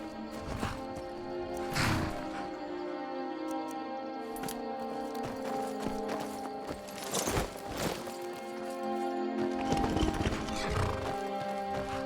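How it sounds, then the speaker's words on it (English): A horse in Skyrim, with hooves clip-clopping and a neigh amid steady ambient background music, at moderate level with a few sharper hoof strikes spaced across the stretch. "That there is Agent Sanyan's horse."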